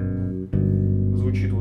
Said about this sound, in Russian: Первый аккорд соль мейдж 7 у нас.